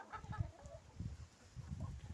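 Chickens cluck softly in short repeated bursts nearby, fairly quiet, while feeding on nettles alongside pigs.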